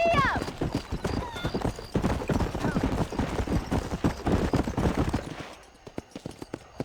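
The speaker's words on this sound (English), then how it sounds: "All right, I'll show you how we ride round these parts. Go!" Horse galloping in the video game Red Dead Redemption, with rapid rhythmic hoofbeats clip-clopping steadily and loudly alongside game sound and a voice, then easing off near the end.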